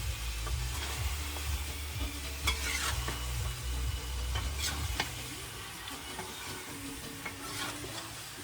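Bograch stew is stirred in a large cauldron over a campfire with scraping, clinking strokes over a soft sizzle, which continues alone after the stirring stops.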